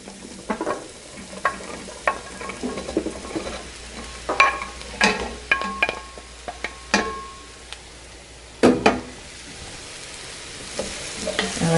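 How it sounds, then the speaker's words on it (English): Vegetables sautéing in a hot pan, with steady sizzling and repeated scrapes and clinks of a spoon stirring, close and clear with no talk. "now I'm going to go ahead and add all the vegetables"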